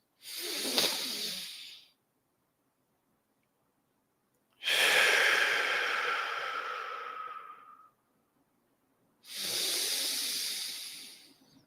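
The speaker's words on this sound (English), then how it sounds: "breathing in to the bottom of the belly, a deep, full breath and hold the breath at the top of the breath" Slow, deep belly breaths during a guided meditation: three long airy breath sounds separated by silence, the middle one a drawn-out inhale of about three seconds, close and clear with no speech.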